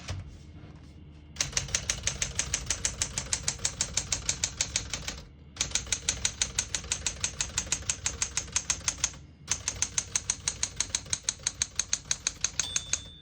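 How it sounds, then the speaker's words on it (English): Rapid, steady keystrokes on a 1969 Smith-Corona Classic 12 portable manual typewriter in bursts, pausing briefly between lines, with a small margin bell ding near the end; no voices. "Once you hear the bell, you're at the end of the margin."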